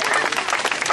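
Audience clapping in a performance venue, a short dense burst of applause with a voice speaking over it.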